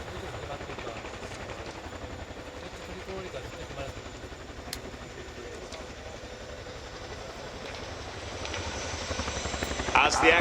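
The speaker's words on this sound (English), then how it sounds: "This is one of the only helicopters in the world that can reverse on 2 wheels." An RAF Chinook HC.6 twin-rotor helicopter reverses on two wheels during an air display, its loud, steady rotor thrum filling the whole stretch and swelling slightly near the end.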